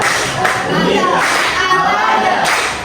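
A class of students gives a short round of applause, brisk clapping bursts from a small group in a classroom, mixed with voices and chatter.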